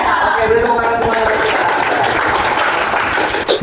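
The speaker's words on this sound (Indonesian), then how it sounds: "Oke, beri tepuk tangan semuanya." A school class applauding together in the classroom, a dense, steady burst of many hands clapping for several seconds, loud and close, with no talking over it.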